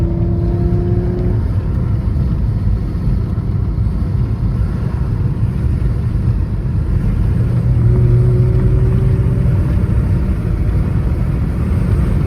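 A BMW E46 wagon engine idles steadily after a VANOS seal repair, giving a close, continuous low rumble with a few faint tonal rises and no speech.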